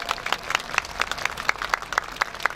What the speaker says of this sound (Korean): 여러분 뜨거운 박수 보내주시기 바랍니다.